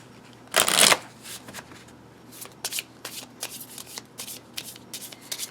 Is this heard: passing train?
no